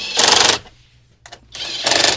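Two bursts of rapid, buzzing hammering from an impact gun on low power, tightening golf cart battery wiring, separated by a short pause with a brief rattle in between.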